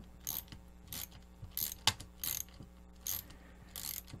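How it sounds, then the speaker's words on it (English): Ratcheting wrench tightening nuts on a Rover OX CNC machine, rapid bursts of clicking pawl ratchet strokes repeating about every half second, close and crisp, with a sharper metallic tap in between. "I just find a ratcheting wrench far,"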